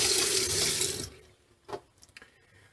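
Water pours steadily from the outdoor spigot of a 2021 Bushwhacker Plus 15FK camper trailer, then cuts off abruptly partway through, leaving a few faint drips and small clunks in the quiet.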